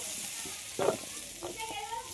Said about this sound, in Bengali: আলু পটল খুব ভালোভাবে ভেজে নিতে হবে